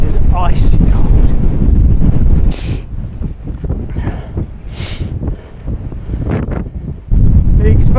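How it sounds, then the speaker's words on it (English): Icy wind batters the microphone on the exposed Fan Fawr summit, a loud, constant roar with gusty surges and brief lulls, and a person speaks briefly beneath it. "that wind is icy cold"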